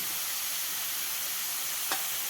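Grated carrot for a paneer carrot paratha stuffing fries in a pan over a medium flame. It gives a soft, steady sizzle and hiss with no talking, and one brief clink near the end.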